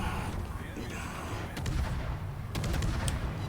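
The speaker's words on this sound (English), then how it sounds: "And now he's shooting at the bow." Naval guns firing in World of Warships, a destroyer shelling a ship's bow: dense rumbling artillery booms and sharp reports layered over a constant low battle roar, with a few crisp shots standing out.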